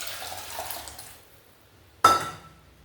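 Drumstick leaf curry poured from a pot into a warm pan, a sudden wet splash with a bright clink after a near-silent pause, then quickly fading.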